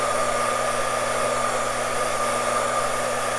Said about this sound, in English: You can see some of the oil burning off with my heat gun.